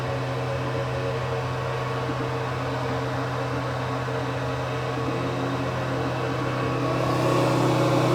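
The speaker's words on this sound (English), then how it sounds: "Air assist is working. I can turn this up so you can hear it." An air assist pump on an Atezr L2 36W laser engraver runs during text engraving, giving a steady close mechanical hum and airy whoosh with a constant low drone that grows slightly louder near the end.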